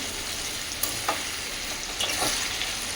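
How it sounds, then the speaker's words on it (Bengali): Potatoes deep-frying in oil until crisp like jhuri bhaja, a steady close hiss of bubbling oil with a few light stirring clinks and scrapes, no voices. "আলুগুলো একদম ঝুড়ি ভাজার মতন হয়ে যাচ্ছে"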